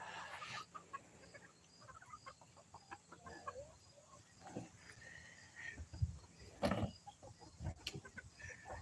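Chickens in a backyard run cluck and call softly at close range, scattered irregular clucks and a few louder squawks over faint outdoor background.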